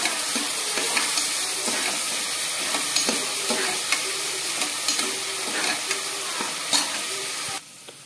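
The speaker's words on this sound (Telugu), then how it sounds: "కచ్చా పచ్చాగా గ్రైండ్ చేసుకున్న ఆనియన్స్ వేయాలి. వీటిని కూడా బాగా ఫ్రై చేసుకోవాలి." Coarsely ground onions frying in a pan, a steady close sizzle with frequent scraping stir strokes throughout, ending abruptly.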